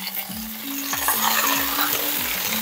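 Saluyot (jute mallow) leaf shoots tipped into a hot pan for Ilocano-style adobo, hissing in a steady fry while a utensil stirs and scrapes in repeated sweeps, no voices.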